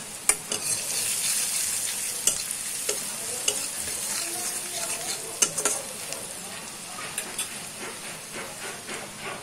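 Masoor dal frying with turmeric powder in a pan for dal bhuna: a continuous close hiss of frying, broken by scattered sharp scrapes and clinks as a spoon stirs the mixture.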